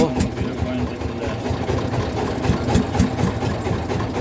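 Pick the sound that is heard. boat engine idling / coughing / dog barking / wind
boat engine idling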